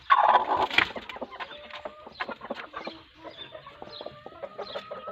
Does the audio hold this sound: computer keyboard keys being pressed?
no